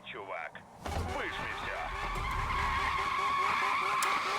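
Car tires screech and skid while drifting in the 2015 Need for Speed racing video game, a sustained squeal with engine roar building after a brief quieter start, loud and continuous to the end.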